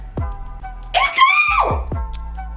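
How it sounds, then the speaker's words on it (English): A person lets out a single loud, drawn-out scream of about half a second, framed by brief talk before and after. "I was feeling a scream tonight."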